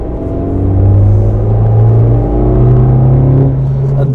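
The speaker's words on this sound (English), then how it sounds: "That GT momentum gives that intake roar." A remapped Suzuki Jimny on the move gives a steady, loud intake roar with a low droning engine note that swells and eases slightly, heard from inside the car.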